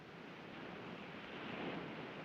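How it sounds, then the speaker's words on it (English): Distant ocean waves wash as a soft, steady surf murmur, faint and continuous, heard on the soundtrack of a 1945 film noir. "You like the sound of the ocean?"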